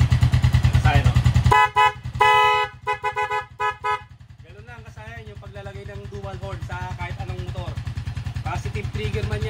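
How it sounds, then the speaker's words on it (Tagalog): A dual horn on a Rusi TC-125 motorcycle honks in a series of short, loud blasts over a steady engine idle, followed by a person talking above the running motor. "Kaya yung busina balance."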